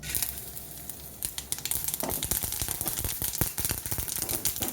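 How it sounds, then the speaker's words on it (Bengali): Chillies, curry leaves and mustard seeds sizzle and crackle in hot oil, close up, the spitting growing busier after a quieter start. "তেলের মধ্যে আমি দিয়ে দেবো শুকনো লঙ্কা কারি পাতা আর সর্ষে ফোড়ন"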